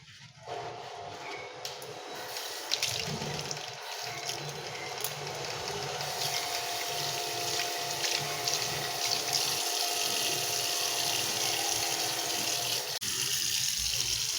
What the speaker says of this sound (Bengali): এরপর আমি ভালো করে জল দিয়ে এইভাবে ধুয়ে নেব।